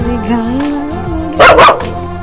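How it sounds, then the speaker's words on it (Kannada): Two sharp, loud dog barks in quick succession ring out over a steady tonal hum in the background. "ನಾಯಿ"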